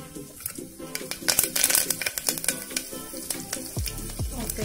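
Cumin seeds, urad dal, chana dal and curry leaves crackle and splutter in hot oil for a curry of cluster beans and potato, a dense sizzle peppered with sharp pops, with a few soft thuds near the end.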